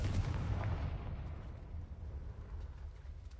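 A deep, rumbling blast from the Confringo blasting spell in Hogwarts Legacy fades slowly into a low, lingering rumble, with no other sound on top.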